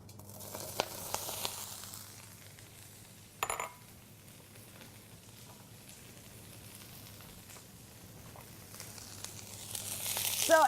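Onions dropped into a smoking-hot pan give a crackling sizzle that grows louder toward the end, after a quiet stretch with a brief metallic clatter partway through.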